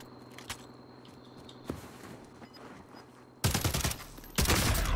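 Gunfire in the video game Warzone: scattered single shots, then two dense bursts of rapid automatic fire toward the end, loud and close.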